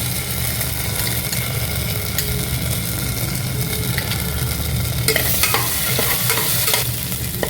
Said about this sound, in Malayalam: ഇനി അതിലേക്ക് ഒരു 1 table spoon ginger garlic paste add ചെയ്യുക.